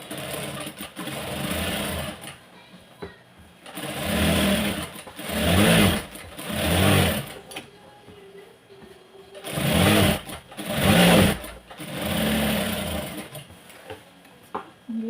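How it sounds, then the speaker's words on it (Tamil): A sewing machine stitching along a saree hem runs in short bursts, about six whirring runs separated by pauses, close and fairly loud, with no talk over it. "இப்போது மேலே ஒரு படிமான தையல் மட்டும் போட்டுட்டு ரெடி பண்ணிக்கலாம்"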